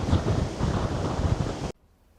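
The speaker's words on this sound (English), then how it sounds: "It's getting very windy up here" Strong wind buffets the microphone on a clifftop near Ventnor and the Undercliff, a loud, steady roar with gusty low rumble that cuts off abruptly, leaving near silence.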